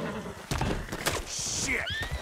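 Horses in Red Dead Redemption 2 whinny loudly and run off with hoof clatter, several shrill neighs rising and falling over thudding steps and crashes.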